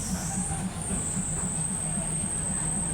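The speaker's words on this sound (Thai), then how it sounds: "อันนี้รถไฟกำลังจะมานะคะ" A train from Wongwian Yai arriving at Maha Chai rolls past close by, its wheels thumping in a steady rhythm beneath a continuous high-pitched whine.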